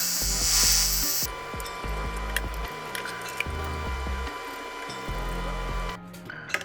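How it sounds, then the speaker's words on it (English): Metal rods are cut to length with a power tool, a high whining buzz with sharp, rhythmic low thumps and chatter throughout, ending in a brief quiet gap and a final knock. "I can cut these rods to a more reasonable length for safety."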